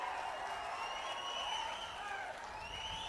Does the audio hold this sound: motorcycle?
no